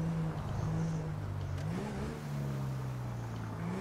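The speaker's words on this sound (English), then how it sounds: "It's a supercar of some sort" A supercar's engine hums at a low steady pitch, then revs upward briefly around the middle before settling into a sustained drone, moderately close with no voices.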